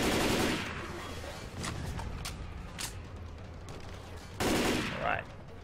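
Scattered gunfire from computer-controlled teammates in Left 4 Dead 2's Cold Stream campaign: a few sharp separate shots over a rumbling game backdrop, with louder bursts at the start and near the end.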